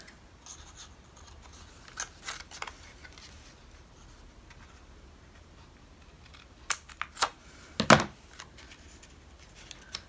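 Scissors snipping through manila envelope paper during a papercraft folio project, a few short close cuts around the middle with a sharper louder snip near the end, otherwise quiet handling.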